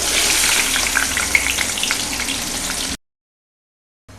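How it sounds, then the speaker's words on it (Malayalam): Onion and ginger frying in hot oil for a chilli chutney, a dense, loud, crackling sizzle with scattered pops that runs steadily for about three seconds, then cuts to silence. "അത് കഴിഞ്ഞിട്ട് ആദ്യം ഉള്ളിയും ഇഞ്ചിയും ഇടുക."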